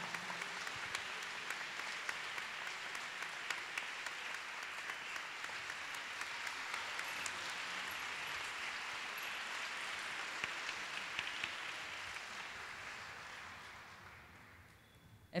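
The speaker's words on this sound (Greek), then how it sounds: "Ένα χειροκρότημα λοιπόν" Audience applause fills an indoor gymnasium at an international dance festival, a long, even wash of many hands clapping, held at a steady level and fading near the end.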